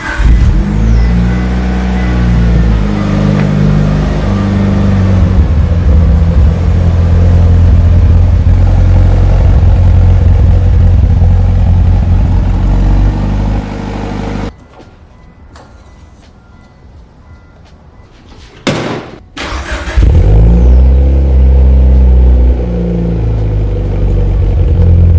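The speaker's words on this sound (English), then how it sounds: "Let's go ahead and start up the car so that way we can check oil level" A Mitsubishi Evo 8 engine idles loudly and steadily on a cold start with a deep, rumbling tone, cuts out for a few seconds, then catches again with a brief sputter and resumes its throaty idle.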